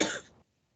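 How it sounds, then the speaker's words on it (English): A single harsh cough bursts out close to the microphone, loud for a fraction of a second, then trails off into silence. "I can't stop coughing."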